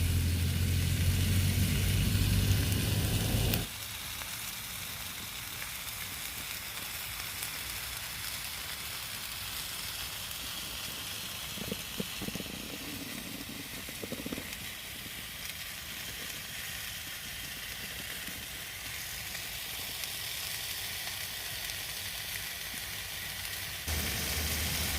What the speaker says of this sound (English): that's my nice rump steak on guys, and I've put some of this chili and garlic salt on just to give it a nice taste